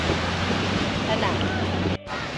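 Sea waves during an island-hopping boat ride: a loud, continuous roar of wind and rushing water buffets the microphone, with a brief dip near the end.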